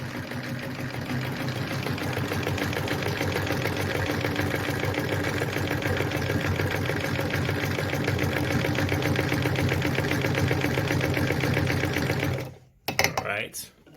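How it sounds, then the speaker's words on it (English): A Phoenix E10 sewing machine runs a zigzag stitch, its motor whirring and needle pounding in a fast, even, continuous rhythm up close for about twelve seconds before stopping abruptly with a few handling clunks. "Once you move beyond the 0 mark, you're sewing the zigzag"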